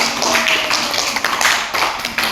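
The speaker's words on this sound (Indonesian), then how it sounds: "Silakan berikan aplaus pada teman-teman." Classmates in a classroom give a short round of applause, a brisk patter of many hand claps at close range, steady for a couple of seconds.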